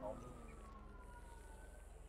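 A video game police siren wails steadily in the distance, faint and continuous beneath a low rumble and scattered talk.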